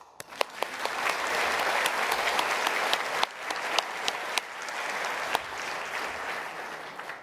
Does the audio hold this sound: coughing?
no